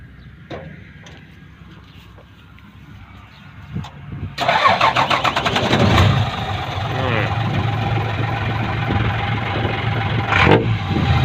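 A heavy diesel six-wheel dump truck engine with a new 12-inch exhaust tip rumbles at idle, then roars louder as it revs, with a deep exhaust note and voices talking over it.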